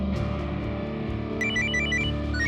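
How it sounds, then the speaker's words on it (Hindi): A phone starts ringing partway through with a repeating high electronic melody, heard over a loud, steady background hum. "अरे फोन किसका?"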